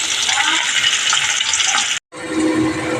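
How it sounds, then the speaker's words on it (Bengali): Fish fry in hot oil in a wok, giving a close, steady crackling sizzle that breaks for a moment and then carries on. "দেখো বন্ধুরা মাছগুলো ভেজে নিচ্ছি আমি"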